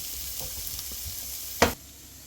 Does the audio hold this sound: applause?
no